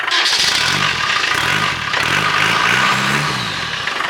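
A loud Nissan 350Z drift car engine with a Side X exhaust revs repeatedly while driving over a field, pitch climbing and dropping in quick surges over rough clattering ground noise.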